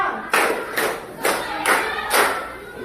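A group of children claps five times in an even rhythm, fairly loud and close, with nothing else between the claps.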